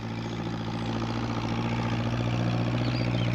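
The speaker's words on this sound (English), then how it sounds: "What with the noise of the tractor, Peter Fogg didn't hear Pat's call." A tractor engine runs steadily with a deep, constant low chugging hum, unbroken and moderately loud throughout.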